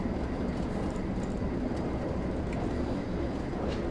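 A Northern Trans-Pennine train runs in the Train Sim World 4 game, giving a steady continuous rumble with faint clicks from the wheels, heard alone at an even level.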